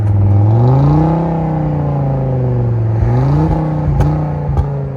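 A 1996 Volvo 850R 2.3L turbo five-cylinder with a turbo-back exhaust idles at raised revs on a cold start, its deep exhaust note rising and falling smoothly, with a few sharp clicks near the end.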